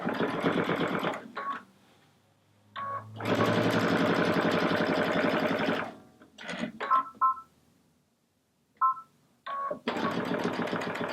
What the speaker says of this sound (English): Now you can put it back under the machine and finish stitching that in place.